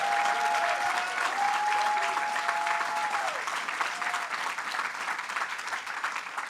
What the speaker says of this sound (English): Let's give another round of applause to George Gresham